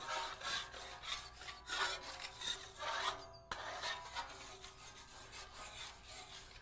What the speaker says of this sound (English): I'm going to take my wonderful spatula here, and I'm going to spread that around, get that nice and even